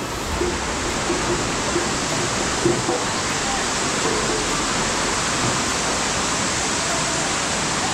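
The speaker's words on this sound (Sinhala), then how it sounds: "ඔන්න තියෙනවා රන්මුදු ඇල්ල." Ranmudu Falls in Sri Lanka, a tiered waterfall in rubber-tree country, roars as a steady, dense rush of falling water that holds at an even level throughout.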